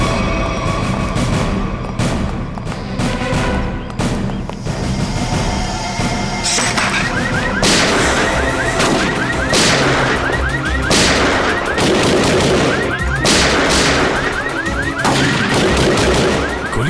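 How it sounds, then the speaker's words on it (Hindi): A dense, continuous barrage of gunshots and booms, loud and chaotic, with overlapping bursts and crashes throughout. "ये गोली कहां से चल रही?"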